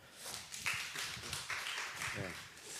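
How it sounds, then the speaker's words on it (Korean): Church congregation applauding, a short burst of scattered claps running under a voice speaking over it. "다시 한번 뜨겁게 박수."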